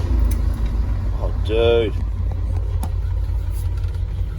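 A Ford Thunderbird with Holley tuning idles with a low, steady rumble that runs throughout, while someone briefly speaks over it.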